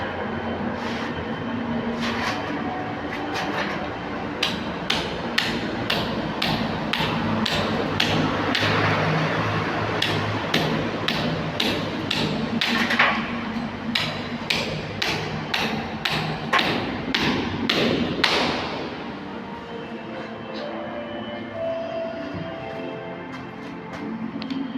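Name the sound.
hammer pounding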